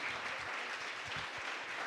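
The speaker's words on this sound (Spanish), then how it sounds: "pues apláudanle ahora al Señor, porque ese es nuestro Dios" Church congregation applauding together, a steady wash of clapping at moderate level with no voices over it.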